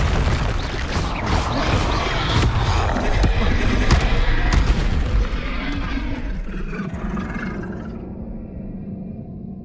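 Spell explosions and magical blasts from Hogwarts Legacy burst loudly in dense succession, heavy booms and crackling impacts layered over game ambience, then fade toward quieter rumble near the end.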